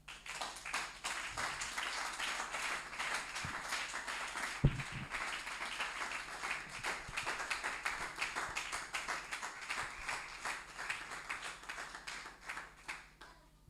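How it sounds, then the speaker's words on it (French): A church congregation claps and applauds steadily and loudly throughout, a dense continuous wash of many hands with no pause, a few louder knocks near the middle. "Si tu es avec moi, acclame le Seigneur."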